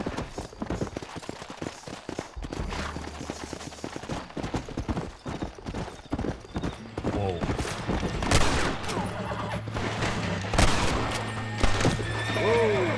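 Horse hooves clip-clop and a horse whinnies amid bursts of gunfire in the Western video game Red Dead Redemption, with layered game effects and music continuing throughout.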